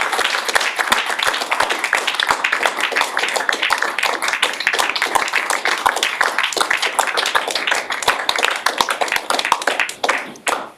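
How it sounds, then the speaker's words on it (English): Audience applause at an association AGM, a sustained round of dense, crisp clapping from a room of people that runs for about ten seconds before fading away at the end. "So can we give Alan a round of applause,"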